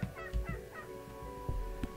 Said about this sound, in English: there's a chicken over there